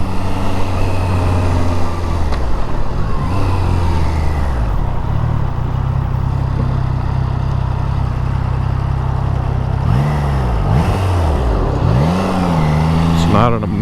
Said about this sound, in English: It's not an obnoxious exhaust, but it definitely has a good sound to it.